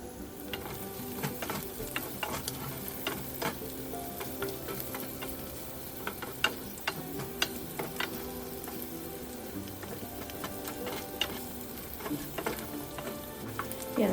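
Pork browning in a frying pan for Bicol Express, a steady low sizzle with frequent small clicks and scrapes of stirring throughout, close and fairly quiet, with no voices.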